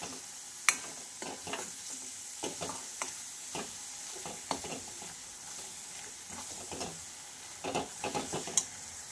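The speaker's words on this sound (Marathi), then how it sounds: "अगदी तेल सुटेपर्यंत आपल्याला हे जिन्नस फ्राय करून घ्यायचे आहेत" Spice masala ingredients for a spicy crab curry fry in oil in a pan, with a steady faint sizzle broken by repeated scraping stirs of a spoon against the pan, close and alone.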